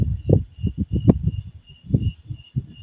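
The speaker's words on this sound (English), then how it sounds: "the crickets are loud too" Crickets chirping loudly outdoors at night, a steady high whine running under a series of close, low thumping handling sounds.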